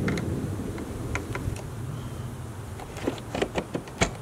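A screwdriver working Phillips screws out of a 2011-2017 Honda Odyssey tail light assembly: soft, irregular clicks and small scraping turns over low hum, a few sharper ticks clustered near the end, close and quiet with no talking.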